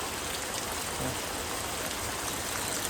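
Heavy rain pours down steadily in a village, a dense continuous hiss of drops drumming on surfaces, loud and unbroken throughout, with no voices.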